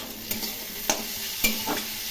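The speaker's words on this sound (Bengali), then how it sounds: "মশলাগুলো আলুর সাথে কষিয়ে নেব" Ground cumin, turmeric and chili powder fry with potatoes in a pan for a Bengali cabbage curry, a soft steady sizzle broken by three or four distinct scraping stirs.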